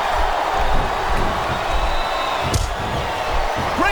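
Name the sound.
arena crowd in wrestling video game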